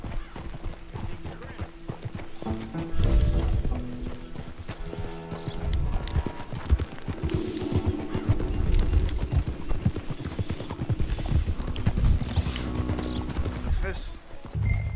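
Horse hooves clip-clop in a steady, uneven rhythm at close range, with voices talking over them.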